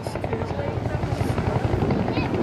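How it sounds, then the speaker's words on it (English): A helicopter's two huge rotor blades chop in a rapid, steady pulse at an airshow in Blackpool, loud and close, while a person talks over it. "And now you can hear that chop, chop, chop."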